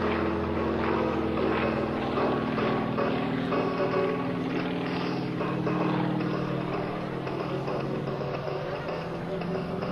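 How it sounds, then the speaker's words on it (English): A Yak 55 aerobatic airplane performs at the 2004 Dover AFB open house air show, its propeller engine giving a steady, loud drone that holds for the full ten seconds with little change. "From left-hand side, Mr. Drew Hurley in the Yak 55."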